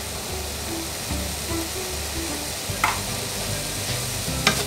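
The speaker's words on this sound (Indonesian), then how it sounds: "Kita aduk kembali." Noodles for mie rica-rica are stirred and fried in a wok, with a continuous loud sizzle and scraping spatula strokes, including a couple of sharper clinks near the end, and no talking.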